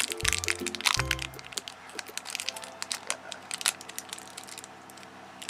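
A vitamin C serum package is opened up close, with sharp cracks and crinkling plastic snapping and rustling irregularly, with no talk.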